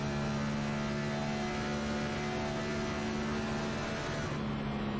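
A race car engine drones steadily on the Hotlanta 200 circuit, a dense, sustained mechanical roar heard from a distance with no clear lifts or passes, fading slightly at the end.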